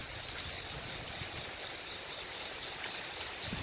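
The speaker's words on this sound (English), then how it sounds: "I'm trying to see if the rain will let up a little bit more" Heavy rain pours steadily during Hurricane Florence, a dense continuous hiss of falling water close by with no break or voices.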